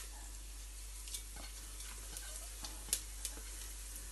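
Spices fry in oil in a cooking pot for restaurant-style biryani, giving a soft, steady sizzle with a few faint clinks and pops over a low background hum.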